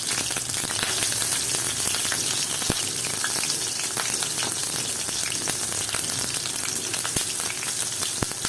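Chopped onion and garlic fry in a pan over low gas, a steady close sizzle with scattered pops and crackles, no talk.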